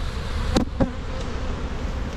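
Honeybees buzz in a continuous, close swarm drone from an opened beehive, with two brief knocks near the start and no voices.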